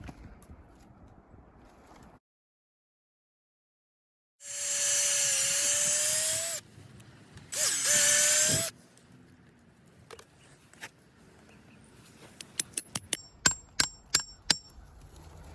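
A power drill whirs into a tree trunk in two bursts, the second shorter, followed by quieter clicks and a run of sharp metallic taps.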